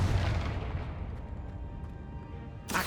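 A Confringo fire spell from Hogwarts Legacy blasts with a deep, rumbling boom that slowly fades, and a second sharp burst hits right at the end.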